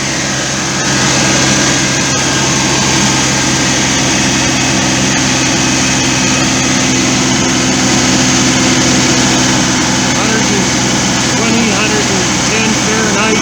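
A loud, steady camper van engine drone held at about 2,500 RPM with the parking brake on, a constant hum and whine that barely changes throughout, close by.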